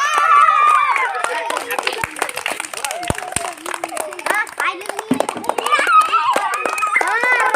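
Schoolchildren clapping hands during a classroom fun game, scattered sharp claps mixed with lively kids' chatter and an adult's voice, fairly close and busy.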